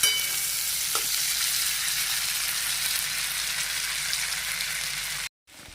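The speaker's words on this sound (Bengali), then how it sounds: "সেই তেলে আমি দিয়ে দিলাম টুকরো করা আলুগুলোর সঙ্গে একটু জিরে, শুকনো লঙ্কা আর একটা তেজপাতা দিয়ে যখন হালকা নাড়াচাড়া করবার পর" Diced potatoes frying in oil with cumin, dried chili and a bay leaf, a steady close sizzle with light stirring that cuts off abruptly near the end.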